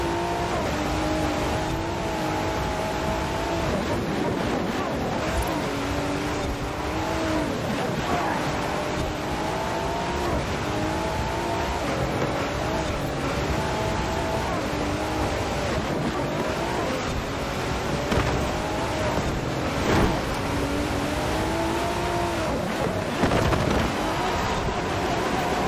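A Lamborghini engine roars in a Forza racing game, steady loud revving with repeated rising gear pulls throughout, and someone talks now and then over it.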